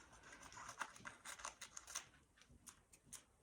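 Scissors snipping a piece off a roll of D tape application tape, quiet crisp cuts and light papery rustles in a short, faint sequence.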